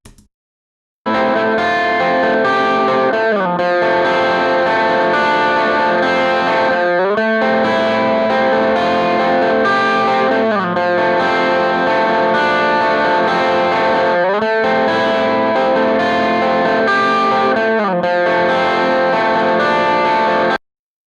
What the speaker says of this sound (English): take a listen to the guitar track and what it sounds like raw